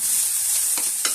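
Grated coconut roasting in a pan for Kerala erissery, a steady dry sizzle broken by two short scraping stirs near the end, close and with no talk.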